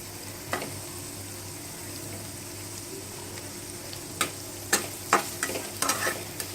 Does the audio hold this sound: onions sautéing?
yes